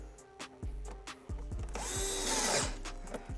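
A power driver sinks a long T15 screw through a composite canard assembly into the threaded fastener of a C8 Corvette Z06 wheel liner, a short close whir after a few clicks and bumps.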